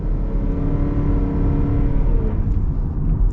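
A 2026 Mazda CX-50 Hybrid accelerates hard, its engine and hybrid drivetrain swelling into a steady, loud, close-up roar that holds for a few seconds.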